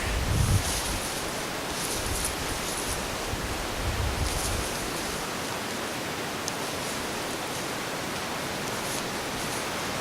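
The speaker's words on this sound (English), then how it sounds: "It's only about, I guess it's about -5 out, but a fair decent wind." A strong, cold wind blows outdoors in below-freezing weather, roaring as steady broadband rush against the microphone, with a few heavier gusts early on and no voices.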